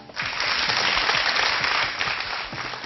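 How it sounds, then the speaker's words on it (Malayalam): A studio audience on a Malayalam singing talent show breaks into applause, a dense burst of clapping that starts abruptly, holds steady for a couple of seconds and then tapers slightly. "അതിനൊരു കൈയടി കൊടുക്കാം"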